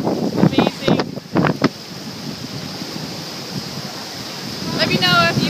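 Ocean water washes around the rock arch at Cabo San Lucas, Mexico, as a steady surf wash with wind noise, while someone talks briefly over it at the start.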